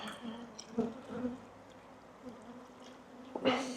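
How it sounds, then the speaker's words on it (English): Honey bees buzzing steadily nearby at a nuc hive, a low droning hum with a few louder passes close by and some rustling near the end. "I suppose you can hear that these bees are all around me"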